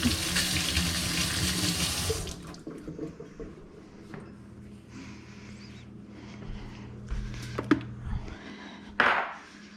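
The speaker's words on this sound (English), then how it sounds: "Rinse my fingers a little bit." Kitchen tap water running over a sink while fingers are rinsed, a loud steady stream for about two seconds, then quieter handling clatter and small splashes.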